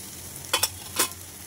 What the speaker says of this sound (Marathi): कांदा मऊ होईपर्यंत शिजून घ्यायचे, तेलामध्ये परतून घ्यायचे।